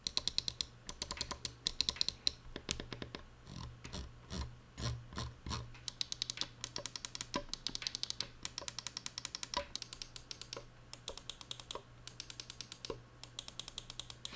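Crisp Logitech G Pro Wireless mouse button clicks, many in quick irregular succession, close and dry with no voices.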